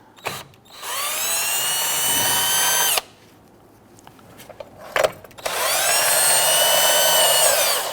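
Power tool with a deep socket spinning off 10mm nuts from a 2010-2019 Ford Taurus battery hold-down: two loud, sustained whirring runs, each about two seconds long, separated by a short pause.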